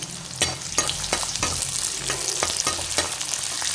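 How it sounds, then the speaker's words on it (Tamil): Sliced onion, cut fairly large, sizzling in hot oil for mint chicken, with a steady close frying hiss broken by repeated stirring scrapes of a spatula against the pan, no voices. "எண்ணெய் நல்லா காஞ்சதுக்கப்புறம் பார்த்தீங்கன்னா அந்த அரிஞ்ச வெங்காயத்தை அதில் சேர்த்துக்கலாம்"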